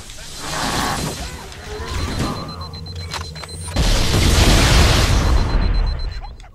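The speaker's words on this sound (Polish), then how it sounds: "Wow, te wybuchy." Explosions from the shooter game Halo: Combat Evolved aboard a ship, booming blasts with a heavy low rumble, the loudest burst arriving midway and rolling out over several seconds.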